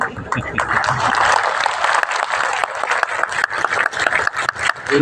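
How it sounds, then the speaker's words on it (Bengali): A concert audience in Mahajati Sadan hall claps loudly and densely at a tribute music event, with sharp individual claps standing out from the crowd and some talking mixed in. "দর্শকরা কিন্তু খুব জোরে হাততালি দিচ্ছে"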